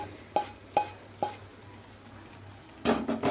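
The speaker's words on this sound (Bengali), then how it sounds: "সবজিগুলোকে দিয়ে আবারও আমি খুব ভালো করে সব কিছু একসঙ্গে নাড়াচাড়া করে নেব" Stir-frying vegetables with rice in a pan for prawn pulao, with three sharp spoon knocks against the pan in a slow rhythm, then a quieter pause and a closer burst of scraping and clatter at the end.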